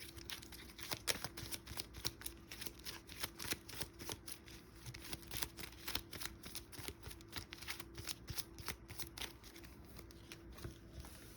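Cards from a GI Joe deck-building game are shuffled repeatedly, a rapid riffling flutter of crisp snaps that runs continuously and close up, with no voices.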